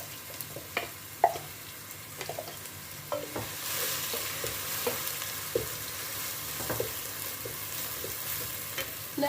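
Ground onions fry in a pot for lasagna with a steady sizzle and crackle, broken by light scraping and stirring knocks throughout, with no voices.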